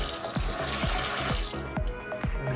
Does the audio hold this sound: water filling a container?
yes